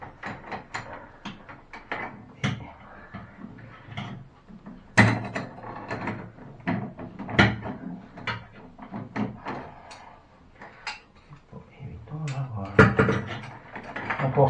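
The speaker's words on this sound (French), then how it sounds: "Donc on serre, hein, on maintient là et on serre là." A wrench tightening a faucet fitting under a sink, heard as a series of close metallic clicks, ratcheting scrapes and knocks in an irregular rhythm, with someone talking in French now and then.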